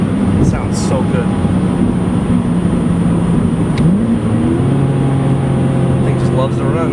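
Engine of a 2007 BMW Z4 3.0si Coupe accelerating on the road, a steady mid-pitched hum that rises in pitch as it revs, heard from inside the cabin while the driver talks over it.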